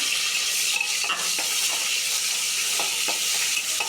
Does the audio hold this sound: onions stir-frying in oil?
yes